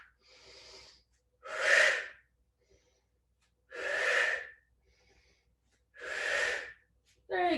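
A person does floor barre exercises and takes strong, breathy exhales in a slow rhythm, about four forceful airy breaths a couple of seconds apart, each heard close up against quiet surroundings.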